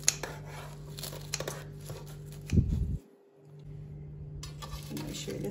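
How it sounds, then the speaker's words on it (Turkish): Crisp baked cheese börek crackles and crunches up close in small bursts as it is cut, with a louder rustling handling noise before a brief quiet gap. "Görüyorsunuz çıtır çıtır sesler geliyor."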